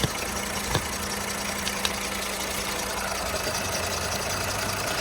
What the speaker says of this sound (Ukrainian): Робота двигуна. Двигун працює чітко